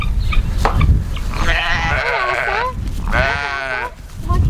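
Sheep bleating at feeding time in a barn, with livestock and goats nearby: several long, wavering bleats from close animals, the strongest two back to back, over steady background noise and brief talk.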